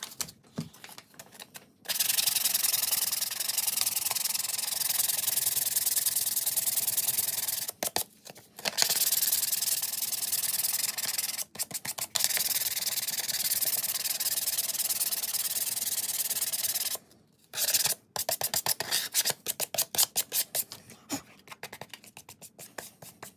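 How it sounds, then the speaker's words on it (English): Leather Frye boot soles rubbed with 220 grit sandpaper: long, steady, close-up scratchy sanding strokes broken by short pauses, ending in a run of quicker, choppier strokes. "So for the bottoms, as I said, I'm going to sand them. The lightest grit that I have is 220."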